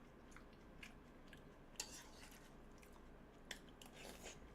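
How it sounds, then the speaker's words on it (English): Crunchy cereal chewed close by, giving a faint, steady crunching texture with a couple of sharper crunches standing out, over quiet background. "This cereal is so good."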